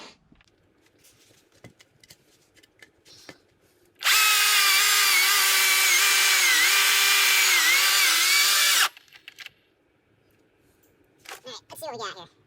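A Stihl MSA 220 C battery chainsaw rips through wood in one loud, steady burst lasting several seconds, its high whine wavering slightly under load, with quiet handling noises before and after.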